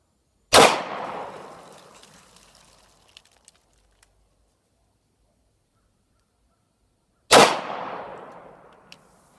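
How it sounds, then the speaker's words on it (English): Two single handgun shots fired at a target, each a sharp loud crack with a long decaying echo, spaced about seven seconds apart with quiet between them. "you got 2 shots pretty much in the same hole"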